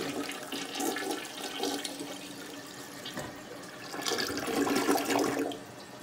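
A faulty household toilet flushes with water rushing and gurgling unevenly as the bowl fails to fill properly, a fairly quiet, close sound with no talking.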